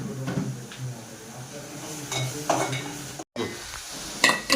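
Tomato gravy stirred and mixed in a pan, a soft scraping and sizzling with a few light utensil knocks against the pan, close by, with people talking over it.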